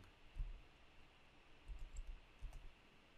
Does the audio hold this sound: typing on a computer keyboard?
yes